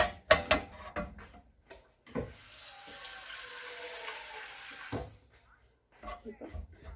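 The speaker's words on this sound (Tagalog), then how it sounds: "Add po tayo ng tubig." Water runs from a tap in a steady hiss for a few seconds, with clattering and brief talk before and after.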